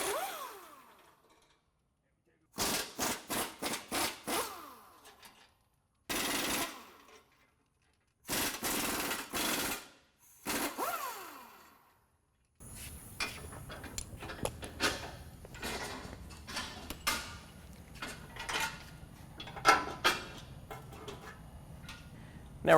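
Power tools work on a nut and bolt on a Ford F-150 cross member. Several separate, loud bursts of rattling impact-style whirring are broken by pauses, then a busier stretch of clanks and shop noise.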